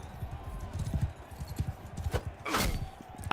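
Horse hooves clip-clop at a steady trotting rhythm in the medieval combat game Mount & Blade II: Bannerlord, close and continuous, with a brief louder swoosh near the end.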